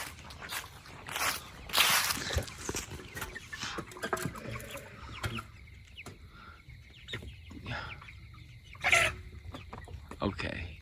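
Chickens cluck and squawk in a coop shared with goats, bursts of fowl calls with rustling and footsteps nearby, and a person speaks intermittently.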